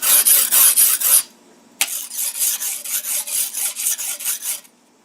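A dull knife scraped back and forth on the rough side of a whetstone, loud close rasping strokes in a steady rhythm, a short pause, then a second run of quicker, lighter strokes.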